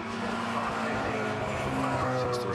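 Several race cars at Brands Hatch in the 2014 Sanwa Trophy Mini race roar steadily and loudly throughout, with tyre squeal and skidding as the pack brakes into Paddock Hill Bend.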